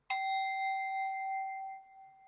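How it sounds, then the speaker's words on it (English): One struck bell or singing bowl rings out clearly, a bright tone that sustains and slowly fades over about two seconds in a quiet room. "We're going to ring the bell, bowl, whatever."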